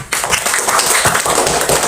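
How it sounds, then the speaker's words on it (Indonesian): Students in a classroom clap for a classmate, a short, loud burst of rapid overlapping claps close by. "tepuk tangan buat temannya."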